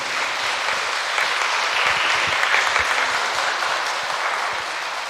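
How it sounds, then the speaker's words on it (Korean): A church congregation applauds warmly to welcome a guest lecturer at a Sunday service. The clapping is steady and dense and holds for several seconds without a pause. "큰 박수로 맞이해 주시기 바랍니다."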